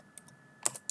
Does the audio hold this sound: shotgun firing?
no